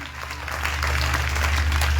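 A church congregation at a French-language revival testimony festival in Bassam applauds and cheers in praise, a steady wash of clapping and crowd noise building slightly and filling the whole stretch.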